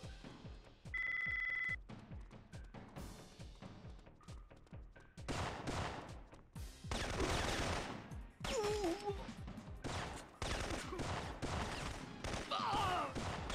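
Gunfire from enemy soldiers in the PlayStation game Syphon Filter, set in fortress catacombs: rapid bursts of shots and impacts, loud and dense, mixed with other game effects and a ringing tone.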